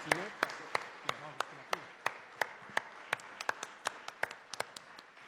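Scattered applause follows a screening of the film Matria: a small audience claps in sharp, separate, fairly close hand claps that grow quicker toward the end, with a faint murmur of voices underneath.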